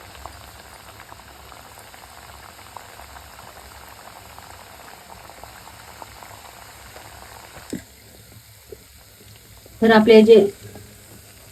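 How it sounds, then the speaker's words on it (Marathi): Kapanya, crisp wheat-flour snacks, frying in hot oil over a slow-medium gas flame: a steady low bubbling sizzle with a brief loud burst of spattering near the end, and someone speaks briefly. "आता आपण ह्याच्यामध्ये ह्या ज्या कापण्या ज्या आहेत त्या तळून घेऊया"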